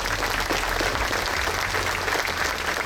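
An audience at a 9/11 memorial service and unveiling applauds. Even, continuous clapping runs throughout with a low background hum and no speech over it.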